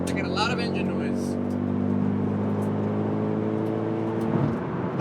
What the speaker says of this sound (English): I get a lot of engine noise.